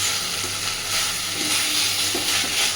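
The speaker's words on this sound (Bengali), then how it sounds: "গ্যাসের ফ্লেমটাকে মিডিয়ামে রেখে একটু সময় নিয়ে এইভাবে নাড়তে নাড়তে পুরো ভাজাটাকে করতে থাকবেন" Pumpkin pieces fry and get stirred in a pan over a medium gas flame for mash, giving a steady close sizzle with faint scraping from the stirring.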